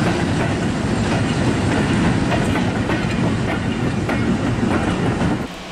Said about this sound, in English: The coal train was heading for Liverpool.